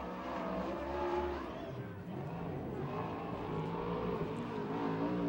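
USAC/CRA sprint cars racing on the dirt track at Tulare, California, a loud, continuous engine roar that rises and falls as cars rev through the turns, heard from nearby.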